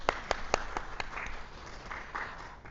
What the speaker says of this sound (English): Could we give them a round of applause real quick?